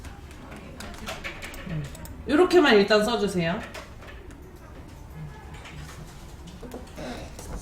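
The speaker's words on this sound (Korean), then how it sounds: "우리 짹짹이 왔나 보다" A small bird chirps nearby indoors, a brief burst of rapid trilling notes lasting about a second, while someone speaks quietly before and after it.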